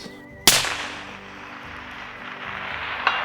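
A single sharp rifle shot cracks out at a 582 target, loud and close, followed by a long decaying echo and a faint second report near the end.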